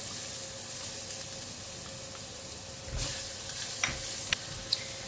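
Garlic fries in about three tablespoons of hot cooking oil in a stir-fry pan. It gives a steady, dense sizzle and hiss, joined near the end by a few sharp clinks and scrapes of stirring.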